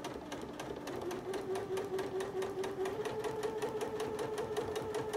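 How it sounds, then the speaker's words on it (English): A sewing machine stitching a lock stitch on a quilt block, a steady rapid mechanical whir and needle chatter running continuously and close, with no talking. "it's going to do a lock stitch."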